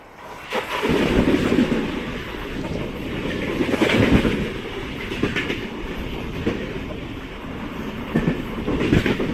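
The Kerala Express passenger train rumbling past, a loud continuous rolling roar with wheel clatter and wind buffeting on the microphone that swells and stays close the whole time.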